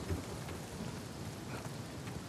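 A thunderstorm with rain in the video game Uncharted 4, heard as a quiet, continuous rainfall hiss with a low rumble underneath and occasional drop patter, with no speech.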